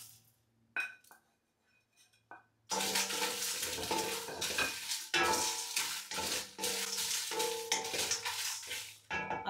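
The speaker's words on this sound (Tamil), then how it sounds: "எல்லாத்தையும் சேர்த்து லைட்டாக வறுக்கணும்." Spices lightly frying in a pan for chicken biryani, a dense close sizzle that starts after a few soft clinks of utensils and carries on steadily with occasional stirring scrapes.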